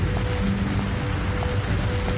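Rain falls steadily as a dense, even hiss of drops on surfaces, constant and fairly close, with no voices.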